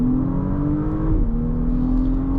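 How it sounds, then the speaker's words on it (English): An Audi S5 Avant accelerates hard, its engine droning steadily as a rising tone that dips briefly at a gear change and then climbs again, heard from inside or close by without any talking. "you just want to get this car punched out of here with a lot of speed"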